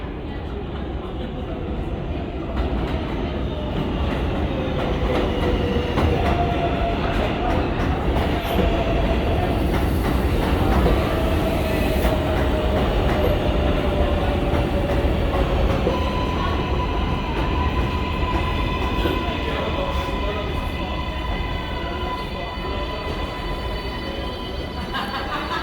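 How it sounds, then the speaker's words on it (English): A New York City subway 7 local train pulls into 74 St-Broadway station with a steady, loud rumble of wheels on rail and rising metallic squeal tones, continuous for the whole span, with no speech. "There is a local 7 train to 74th Street, Broadway."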